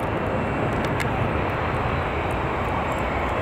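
A simulated Embraer E-jet on the runway in a flight video game, a loud, steady jet engine roar with broadband rush filling the whole stretch without pause.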